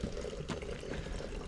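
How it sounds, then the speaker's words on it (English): Water flows from a spring at the Roman baths, a steady, continuous splashing pour that stays even and fairly close, with no voices over it. "I do believe there is a spring just around the corner here"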